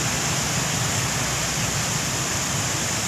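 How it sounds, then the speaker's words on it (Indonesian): Fast floodwater rushes through a flooded street in Samarinda, East Kalimantan, a dense, steady roar that stays loud and unbroken throughout. "Nah, ini banjirnya deras"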